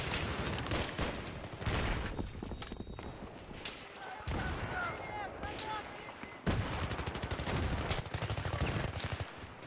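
Battlefield 3 gunfire on Xbox 360 rattles almost nonstop as loud, overlapping automatic bursts and volleys, with muffled voices underneath.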